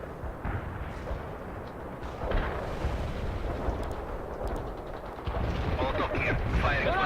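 Gunfire and artillery from the World in Conflict strategy game at Fort Teller, a dense continuous barrage of rumbling blasts and crackling shots, loud throughout, swelling stronger in the last two seconds with radio-style voices mixed in.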